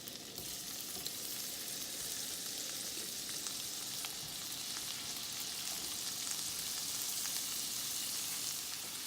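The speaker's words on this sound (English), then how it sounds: "Then I'm going to start laying my shrimp down." Shrimp laid into a pan of butter and olive oil sizzle steadily, a dense even crackle that holds at the same level throughout, with no voices.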